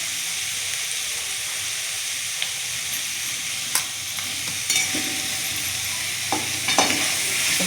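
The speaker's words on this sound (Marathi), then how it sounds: "मीठ टाकून हलवून झालं आपलं" A steady, close frying hiss comes from a pan of ghevda bean vegetable as salt is stirred in, with occasional scrapes and light knocks of a spatula against the pan.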